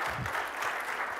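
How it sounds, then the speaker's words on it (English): A conference audience applauds, a dense steady patter of many hands clapping together, continuous through the brief moment. "Round of applause."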